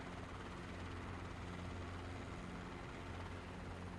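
A helicopter's rotor spins at constant RPM in Microsoft Flight Simulator 2020 in VR, a quiet, steady rotor and engine drone with an even whirring pulse and no speech.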